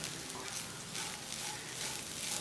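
A spoon stirs chicken masala with coriander leaves in a hot pan for chattipathiri filling, giving a steady, soft sizzle with faint scraping throughout.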